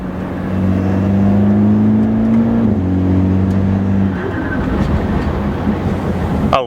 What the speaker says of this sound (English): I love all the noises this car makes.